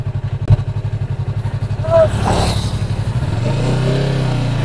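Yamaha R3 motorcycle engine on a road test: a loud, close, pulsing idle, then a brief rising rev before settling into a smoother drone, with a voice talking over it.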